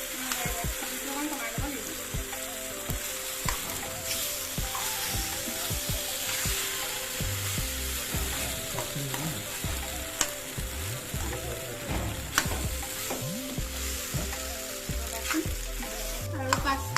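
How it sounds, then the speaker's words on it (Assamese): Pasta sizzles and fries in a pan while being stirred, with steady crackling broken by repeated scraping strokes, close up, under occasional talking. "আৰু পাস্তাখিনি দি দিলোঁ ইয়াতে এতিয়া ফ্ৰাই হৈ গ'ল"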